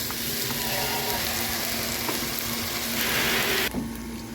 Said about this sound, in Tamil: வெங்காயம் வதங்கிட்டு இப்போ இஞ்சி பூண்டு பேஸ்ட்டு சேர்த்துருக்காங்க